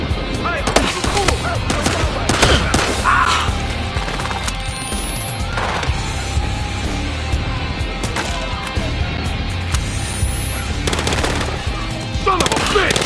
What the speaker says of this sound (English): Tell that to the asshole shooting up the place.